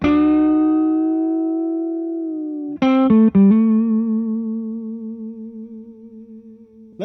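Electric guitar played through a Nobels ODR-1 overdrive pedal into a Two-Rock Classic Reverb Signature amp: a long sustained chord ringing out alone, then a quick burst of picked notes settling into another held, wavering chord.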